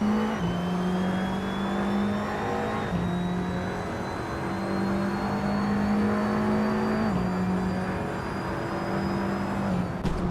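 A 2010 Alfa Romeo Giulietta race car in a racing video game drones loudly and steadily, its engine pitch climbing and dropping back with several gear shifts, with no voices over it.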